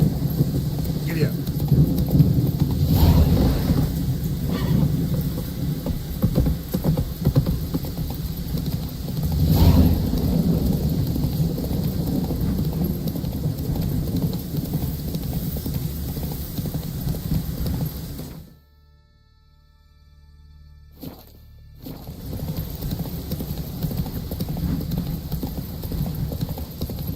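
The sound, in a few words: horse galloping hooves in video game The Witcher 3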